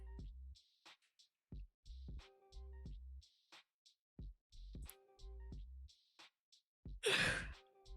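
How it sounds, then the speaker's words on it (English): One long, breathy yawn swells near the end, loud and close, after a stretch of soft, sparse tonal sounds. "Sorry, I yawned."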